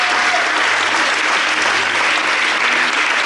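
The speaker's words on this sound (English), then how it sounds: "Momentum, I want you to cheer for them, clap for them, encourage them." Loud, steady applause from a live audience fills the whole stretch, dense clapping with cheering blended in and no break.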